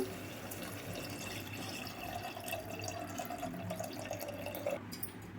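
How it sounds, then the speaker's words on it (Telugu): Water pours steadily into a pot for kuska biryani, a rising, filling tone building over the splashing before it cuts off near the end. "ఇప్పుడైతే రైస్ రాకుండా వాటర్ మాత్రమే పోసుకుందాము."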